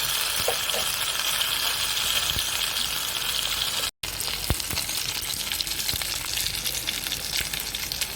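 Pomfret fish frying in oil in a pan, a loud, continuous close sizzle with occasional light knocks and a brief break midway.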